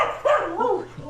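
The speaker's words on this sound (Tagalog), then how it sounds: "Kakatakot naman yung asong iri." A dog gives a couple of sharp, close barks that slide into a whiny, yelping tone within about a second.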